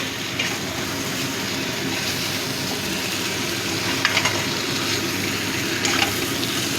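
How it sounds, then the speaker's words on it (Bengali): Spice paste frying in oil for a prawn malai curry gives a steady, close sizzle with faint stirring scrapes, running unbroken throughout with no voices. "বন্ধুরা আমার ভালো মতো কষানো হয়ে গেছে, তেল বেরিয়ে এসছে।"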